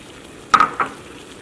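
A soaked ingredient drops into a pot of boiling water for a drink, giving a short splash followed by a second, softer plop, with no talk over it.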